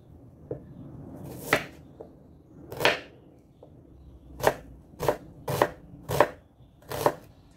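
A sharp kitchen knife chops garlic on a board for a shrimp dish, giving about eight crisp, close knocks spaced slowly and irregularly, with no voices.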